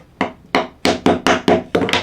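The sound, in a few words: hammering nails into scrap wood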